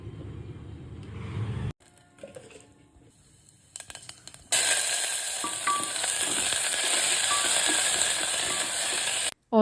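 Spices sizzle and fry in a pan for a potato and pea curry, a loud steady sizzle filling the later half after quieter kitchen clatter and a brief pause.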